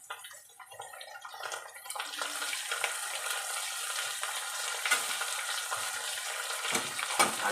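Potatoes sizzle and crackle steadily as they fry in oil in a pan for a sabzi fry, quiet at first and then a dense, continuous hiss with occasional scraping stirs.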